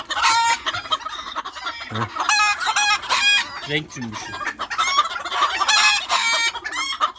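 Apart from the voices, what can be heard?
chickens clucking and crowing, ornamental breeds like serama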